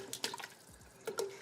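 Potatoes drop into a pot of lacón cooking water with a few soft, quiet splashes and drips, two small clusters a second apart.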